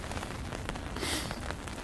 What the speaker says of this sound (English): The rain's picked up again, not massively, but enough.